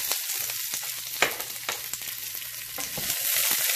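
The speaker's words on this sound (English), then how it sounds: "we need 2 tablespoons of oil, and to that we will add our onion" Onion cut into inch-size pieces dropped into two tablespoons of hot oil, a bright close sizzle with a few spoon knocks and stirring scrapes, swelling louder toward the end, no talking.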